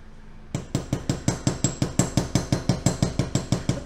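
A hammer taps a metal stamped moon necklace pendant in a quick, steady series of sharp, ringing metallic strikes, close and evenly spaced after a brief quiet start.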